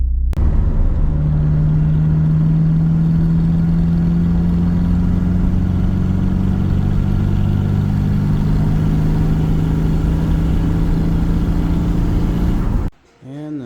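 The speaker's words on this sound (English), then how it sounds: "We're just going to keep driving it, see what happens." A Mitsubishi Eclipse GST engine drones steadily while the car is driven, a loud, continuous mid-pitched hum that holds nearly constant before cutting off abruptly near the end.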